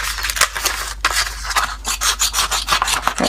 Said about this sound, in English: You can either rub those lines out.